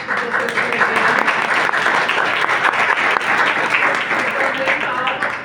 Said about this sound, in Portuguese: vamos fazer agora palmas para o professor Heleno.